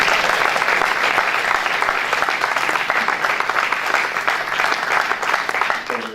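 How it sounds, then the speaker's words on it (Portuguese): Dense, sustained applause from an audience at a company staff meeting, continuous clapping throughout that tapers slightly at the end. "Uma salva de palmas para o João Garcia."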